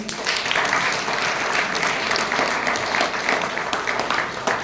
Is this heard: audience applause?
yes